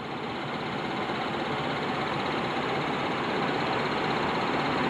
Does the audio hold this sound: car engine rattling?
yes